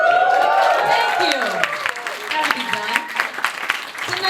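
Comedy club audience at a stand-up showcase bursts into applause with cheering, the clapping fading under a voice that carries on talking over it.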